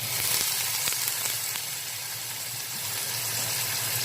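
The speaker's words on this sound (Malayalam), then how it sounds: "കുറച്ച് വെള്ളം ഒഴിച്ച് കൊടുക്കാം." Water poured into a hot pan of browned chicken pieces for chicken machboos sets off a loud, steady, hissing sizzle that fills the space evenly from start to finish.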